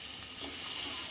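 Green chillies fry in a pan of hot oil as they are stirred, giving a steady close sizzle without pause or talk.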